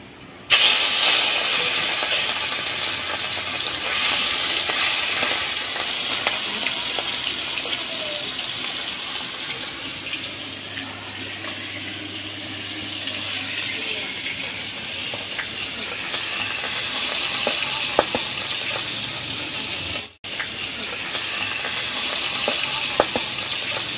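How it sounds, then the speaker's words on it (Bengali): Puti fish fries in hot oil with a constant close-up hiss and crackle that keeps going throughout, briefly dipping once before resuming. "আমার তেল গরম হয়ে গেছে, এখন আমি মাছটা ছেড়ে দেবো ভাজার জন্য।"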